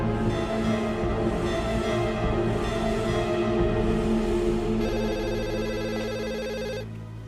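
A telephone rings steadily for several seconds in an Indonesian TV drama scene, a loud, continuous electronic ringtone that carries on alone with no speech.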